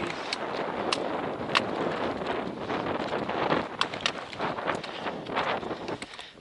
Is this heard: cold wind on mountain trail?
yes